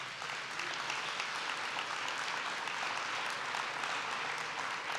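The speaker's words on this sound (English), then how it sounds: "go ahead and clap for that." A church congregation breaks into soft, steady applause, a continuous wash of clapping heard from a distance at low volume, with no voices over it.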